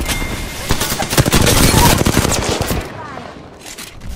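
Rapid automatic gunfire in the battle-royale shooter Apex Legends, loud and close, a dense burst of shots that thins out toward the end, with faint game chatter underneath.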